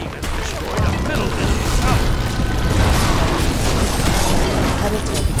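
A tower crumbling in the video game Smite, with loud sustained booming and crashing debris through the whole stretch, layered under game sounds.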